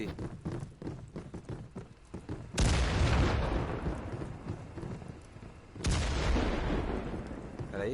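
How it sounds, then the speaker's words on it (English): Two heavy grenade blasts go off near a planted C4 bomb in a competitive video game match, each a sudden loud boom that rolls off slowly, the second arriving about three seconds after the first. "já foram 2 granadas no C4"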